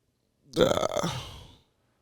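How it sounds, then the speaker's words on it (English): A single loud, croaky burp right up close, lasting about a second, with nothing else around it. "You can't just burp into the mic."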